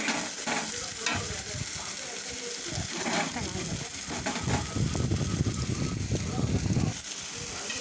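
Spice masala being stir-fried in oil for a Bengali curry makes a continuous sizzle. Repeated scraping strokes of a spatula against the pan build into a busier, louder stretch near the end.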